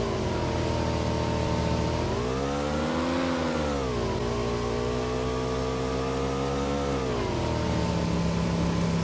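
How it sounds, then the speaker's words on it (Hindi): A motorbike engine in a battle royale video game, running steadily and loud throughout, its pitch rising and falling as it revs up around the middle, then settling back to a constant drone. "मैं बाइक लेके आगे की तरफ जा रहा होता हूँ"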